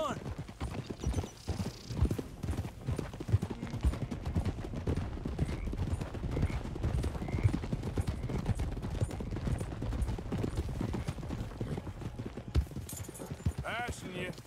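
A thoroughbred horse trots in Red Dead Redemption 2, its hooves making a steady, rhythmic clip-clop that continues throughout. Voices and other game sounds run underneath the hoofbeats.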